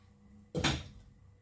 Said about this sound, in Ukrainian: Накриваємо кришечкою.